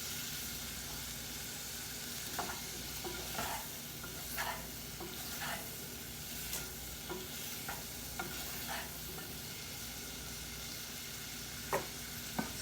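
Green bell pepper curry fries in a pan over a constant soft sizzle, with occasional spatula scrapes and stirs breaking through at irregular intervals, close and fairly quiet with no talking.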